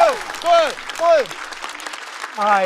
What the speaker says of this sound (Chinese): 掌声送给贾浩，第二轮第一位直接晋级的脱口秀演员。